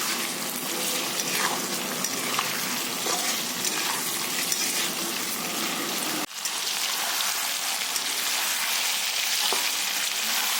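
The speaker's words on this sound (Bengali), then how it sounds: "মাংসটা কিন্তু আমি ভালোভাবে ভেজে নিচ্ছি তেলের উপরে।" Chicken meat frying in oil before spices are added, a loud continuous rain-like sizzle close up that drops sharply partway through and then carries on a little softer.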